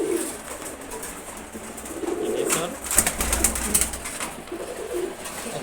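Racer pigeons coo softly and repeatedly at feeding time, close by, with low throaty calls and faint rustling and pecking in between.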